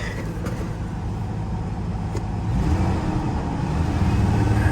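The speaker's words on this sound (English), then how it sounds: "the misfire doesn't go away. As you rev it up, it gets worse" A police car's engine, misfiring and running rough, revs with a steady uneven drone that swells louder partway through, close by with no talk.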